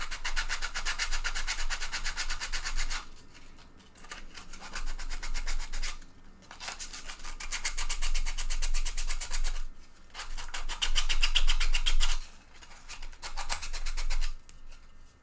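Hand sanding a T-Rex mounted bust: steady raspy rubbing strokes in repeated bursts of a few seconds each, separated by short pauses, close and moderately loud with no talking.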